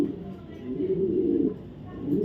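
A racer pigeon gives low, throaty coos close by, a steady rolling murmur that swells and fades over a couple of seconds.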